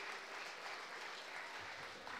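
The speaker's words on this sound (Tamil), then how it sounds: "எல்லோரும் ஒரு பெரிய பலத்தை கரகோஷம் கொடுக்கலாம்." Audience applause at a college computer science event honoring volunteers, a dense, steady burst of clapping from a crowd that fills the whole moment without pause.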